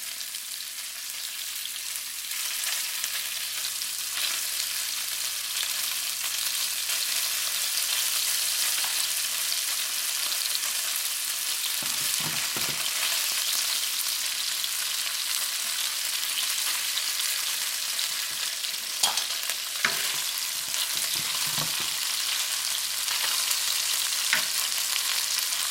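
Salmon browning in a pan ahead of fried rice, a steady broadband sizzle running the whole way with occasional soft stirring scrapes and light pops, close and even, no voices.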